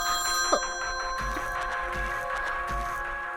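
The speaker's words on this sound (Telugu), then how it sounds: "మళ్ళీ అదే నంబర్ నుంచి కాల్ వస్తుంది." A mobile phone ringing with an incoming call, its electronic ringtone repeating in a steady pattern at moderate volume, with no one speaking.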